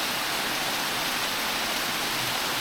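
Folly Dolly waterfall rushing at close range, a dense, steady broadband roar of falling water with no pauses or voices.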